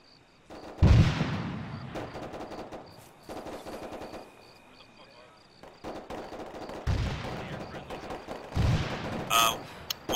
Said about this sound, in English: Just on the other side of that gunfire, over.